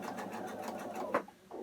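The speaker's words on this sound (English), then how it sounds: "And then just sew." A sewing machine runs steadily, stitching curved quilt pieces for a New York Beauty quilt, with a soft, rapid mechanical whir heard up close and a brief pause near the end.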